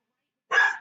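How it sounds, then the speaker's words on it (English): A single short, sharp dog bark, close and fairly loud, breaking out of silence. "My dog literally is not shut up."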